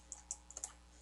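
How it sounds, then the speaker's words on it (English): A computer mouse clicks quietly several times in quick succession, small sharp ticks close to the microphone over a faint steady hiss, with no voices. "So let's double click on it"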